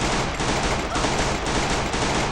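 Dense rapid gunfire fills the Free Fire battle royale match, a loud continuous burst of shots with no pause.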